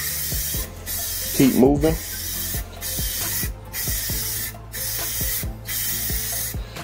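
White Rust-Oleum spray paint hisses from a can in a run of short bursts with brief pauses between them, close and steady, while a voice speaks briefly partway through.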